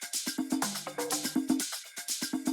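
Layered percussion loops with shakers and tambourines, fast rhythmic ticks and hits repeating in a tight groove alongside a short melodic tone, played alone at moderate loudness.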